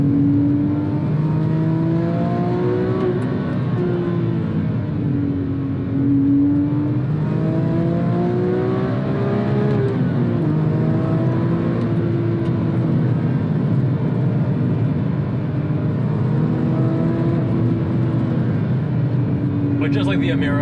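Engine of a 2007 Porsche 911 GT3 (997.1) revving steadily while driving, its pitch rising and falling through gear changes, loud and close inside the cabin with no voices heard.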